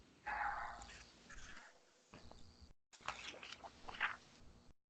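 A small dog barks and yips in bursts somewhere in a room, fairly close, with no talk over it.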